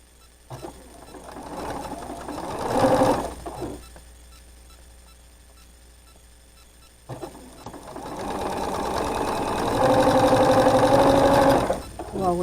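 A sewing machine stitches the seam of a quilt block in two loud whirring bursts, one brief and one longer. A quiet pause separates them, and a voice talks softly near the start.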